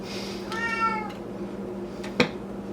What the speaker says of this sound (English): Please excuse my cat over here who wants fed because he smells food.